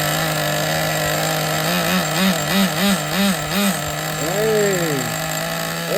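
A Traxxas Nitro 4tec .15 nitro RC car engine runs on 25% nitro fuel through an older carburetor, holding a steady high buzzing drone. It revs in a pulsing series of warbles and then sweeps up and down once, loud and close, with no speech.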